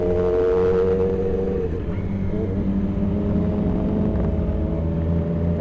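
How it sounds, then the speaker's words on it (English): A nearby motorcycle engine revs, a continuous rumbling drone whose pitch dips and climbs again partway through, heard up close over road and wind noise. "The brothers gave me a rev."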